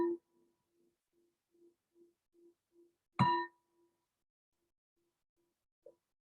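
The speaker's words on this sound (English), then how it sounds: "we'll let the bell transition us again from all the talking to some practicing, exploration" A meditation bell is struck once, a single clear ring that fades quickly in a near-silent room, with a few faint low pulses before and after.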